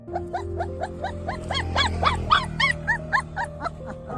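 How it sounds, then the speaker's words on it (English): A small, frightened dog stuck between two pipes cries and whimpers in a rapid series of rising and falling yelps, growing louder in the middle, over a steady low background hum. "The dog was likely injured, as it was crying when the people tried to move the pipe."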